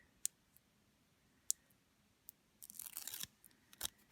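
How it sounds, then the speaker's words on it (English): A few sharp clicks, then a brief rasping tear as backing strips away from foam tape, close and quiet, followed by more small clicks. "Peel the backing off."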